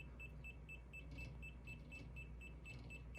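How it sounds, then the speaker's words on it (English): Repeated short electronic beeps in a steady rhythm from DJI FPV goggles in binding mode while pairing with a BetaFPV Pavo Pico cinewhoop drone, faint and regular over a quiet background hum. "the beeping that is heard on the goggles will cease"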